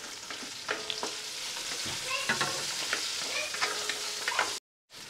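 Garlic and slit green chillies frying in oil in a pan, a steady close sizzle with scraping stir strokes throughout, ending in a brief cut to silence.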